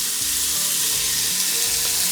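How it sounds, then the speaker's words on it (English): Burger patties sizzle steadily in a Ninja PossibleCooker Pro set to bake at 425, a constant loud frying hiss with no talking over it. "these little burger patties are sizzling up pretty good"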